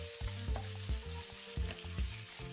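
Ground chicken breast frying in a pan with softened onion, a steady close sizzle broken by repeated stirring scrapes and clatters, with no talk.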